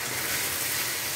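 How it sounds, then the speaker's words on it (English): Lamb and bean sprouts stir-fried with soy sauce in a hot pan, a brief, dense, steady sizzle, close and fairly loud, with no voices. "Keep stirring."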